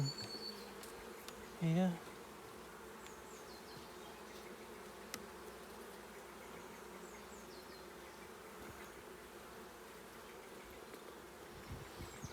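Honeybees buzz steadily around an open hive during a routine late-April inspection, a soft continuous drone close to the microphone, with a brief louder bump near the start and a single word spoken.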